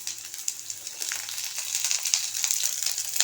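Sliced onion and a piece of ginger fry in hot oil in a pan for drumstick masala, a steady close crackling sizzle with fine spitting pops that grows slightly denser toward the end.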